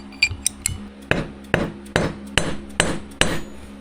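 Six to eight sharp taps ring out as a new, thicker seal is driven onto a car distributor shaft through a 14 mm socket and a wood block, with evenly spaced, close, loud hits. A voice talks between the first few.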